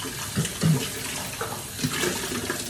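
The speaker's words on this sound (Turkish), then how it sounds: "şöyle sıcak suyumu kullanıyorum" Hot water runs steadily from a kitchen tap while dishes are washed, a continuous close splashing stream with small clinks and knocks at the sink and no talking.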